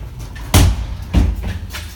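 An apartment building's entrance door with a broken window pane shuts with two loud, close thuds about half a second apart, followed by a fainter knock.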